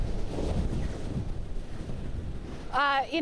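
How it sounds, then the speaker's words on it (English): Strong hurricane winds from storm Fiona at Port aux Basques, Newfoundland, roaring as a steady, heavy rumble against the microphone; a voice breaks in briefly at the end. "things have gotten significantly worse as far as those winds go"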